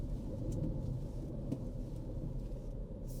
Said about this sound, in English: So there is some cabin noise inside of the Kicks.